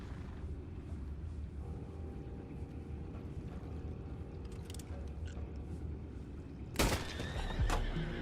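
A horse neighs loudly near the end of a Red Dead Redemption 2 scene, a sharp whinny rising over a steady low rumble of ambient game noise.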